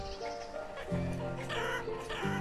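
Chickens cluck and squawk in the village-building game Banished, several overlapping calls close and loud, rising and falling in short bursts throughout.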